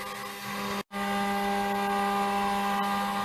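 A CNC router cuts wood in a long endurance test, giving a steady, loud, close machine whine that drops out briefly near the start before resuming unchanged.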